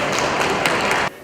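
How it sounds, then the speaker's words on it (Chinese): An audience bursts into a short round of dense, steady applause, close and loud, which stops abruptly after about a second. "鼓掌谢谢一下"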